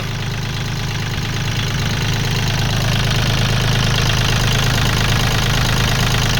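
A Kubota L3218SP tractor engine runs steadily at close range with a loud, even diesel chug and knock throughout, and no other sounds interrupt it.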